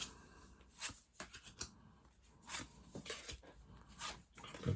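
Tarot cards are shuffled by hand close up, a quiet run of riffling, slapping and sliding bursts in an uneven rhythm, with no talking.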